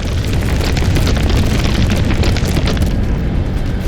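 Heavy explosions striking the Mammoth vehicle in the Halo 4 campaign, a loud continuous rumble of booms and blasts throughout, with no talk.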